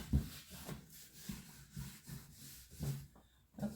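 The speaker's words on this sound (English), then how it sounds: "Okay, so that is sanded down, and now we're going to be ready to paint it." Wooden boards for a bathroom mirror frame are hand-sanded in slow, rhythmic back-and-forth strokes, faint and close, roughly two strokes per second.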